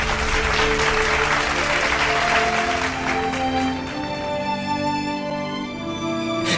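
An audience claps for a contestant at a competition. The dense applause is loud at first and then thins out, with a sustained musical tone running underneath.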